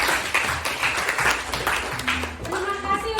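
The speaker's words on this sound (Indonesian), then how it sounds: "Tepuk tangan." A classroom group claps together in a steady, close patter of hands, with voices talking over the applause.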